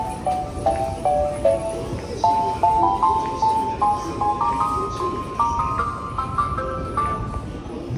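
A chiming departure melody plays on a JR Nambu Line station platform, a bright run of rising electronic notes repeating steadily for several seconds over station background noise.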